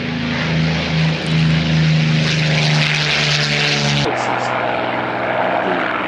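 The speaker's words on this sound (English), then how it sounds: "2 P-40s to get airborne." Pair of P-40 propeller fighter aircraft taking off at the Duxford May air show in 2001, a loud sustained engine roar with a droning propeller hum, close and powerful, shifting in pitch as the planes pass.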